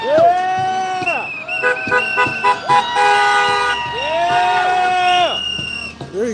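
A truck horn honks repeatedly at a street protest, in long sustained blasts with short breaks between them, loud and close. Crowd noise and traffic sound underneath.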